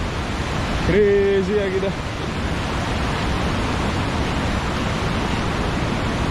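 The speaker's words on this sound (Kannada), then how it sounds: "ಯಪ್ಪ ಏನು ಗುರು ಇದು, ಈ ರೇಂಜಲ್ಲಿ ಬೀಳ್ತಿದೆ ಫಾಲ್ಸು" Sathodi waterfall in monsoon flood, a loud, steady roar of falling water that fills the whole clip, with a voice briefly exclaiming over it near the start.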